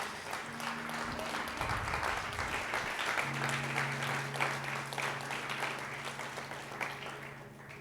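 Church congregation applauding throughout, a steady diffuse wash of clapping with a low sustained tone underneath, moderately quiet and without speech.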